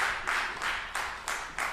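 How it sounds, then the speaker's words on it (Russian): Audience applause at a literary-musical evening, clapping that swells in rhythmic waves, a steady patter of many hands, moderately loud and without voices. "Саридис Алексей, ваши аплодисменты, дорогие друзья."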